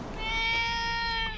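A cat on an Amsterdam street gives one sustained, tonal meow at moderate distance over faint outdoor background noise.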